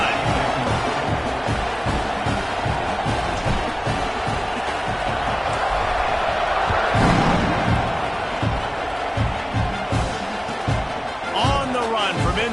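A packed stadium crowd roars and cheers steadily through a College Football 26 game between Alabama and Oklahoma, with rhythmic thumping chants and claps, while a commentator talks over it.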